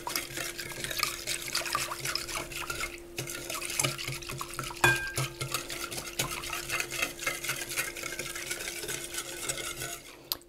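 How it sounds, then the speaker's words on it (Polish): Sugar and warm milk being stirred together in a bowl, a steady close scraping swirl with light liquid sloshing and faint clinks, continuous with no talking. "To wszystko razem należy rozmieszać."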